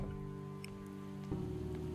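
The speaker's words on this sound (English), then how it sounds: "Walking in the rain." Steady rain falls in the zombie survival game Project Zomboid, a constant soft hiss layered over a low droning hum that grows slightly louder partway through.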